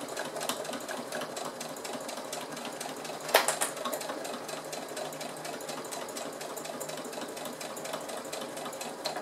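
A sewing machine stitches the corners of a fabric pouch 0.5 cm from the edge. It runs as a steady, rapid mechanical chatter throughout, with one sharp click near the middle.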